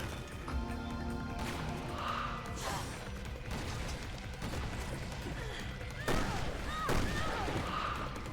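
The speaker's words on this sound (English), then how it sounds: "I just shot my shotgun at the back of your head" Shotgun blasts in Resident Evil Revelations 2 ring out during busy combat, a few sharp bangs spaced seconds apart over a dense wash of game sound and muffled speech.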